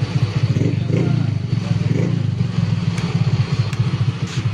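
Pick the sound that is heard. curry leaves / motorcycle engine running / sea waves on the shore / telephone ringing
motorcycle engine running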